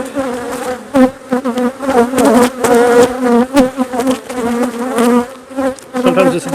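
Honeybees buzz steadily and loudly around hive frames during a honey harvest, a dense swarming drone with shifting pitches that rises and dips throughout, close to the listener and with no talk.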